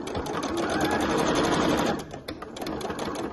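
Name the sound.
sewing machine stitching a fabric clutch bag seam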